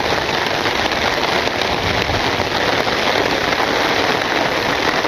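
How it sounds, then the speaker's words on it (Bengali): Light drizzle pattering steadily on an umbrella in a village, a dense, even hiss of fine drops held close throughout with no talking. "ভালোই লাগতেছে, গুড়ি গুড়ি বৃষ্টি, ছাতা নিয়ে"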